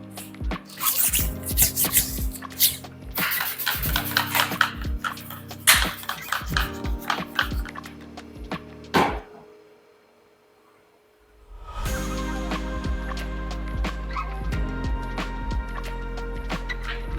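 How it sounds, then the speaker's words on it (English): An air compressor blasting air during a paint protection film install on a Ferrari F430, loud hissing bursts in uneven spurts, a near-silent gap, then a steady sustained roar of air to the end. "we'll also blow ourselves with the air compressor"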